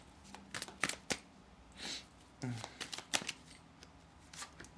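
Quick riffling bursts of playing cards being shuffled, several sharp flurries in a row, close up, with soft talking in between.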